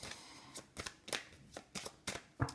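Tarot cards are shuffled in a series of soft, close riffles and flicks, about six quick bursts spaced roughly a third of a second apart, faint and alone without talk.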